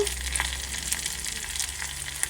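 Steady crackling sizzle of eggs frying in a covered pan, with small pops throughout and a soft background hum.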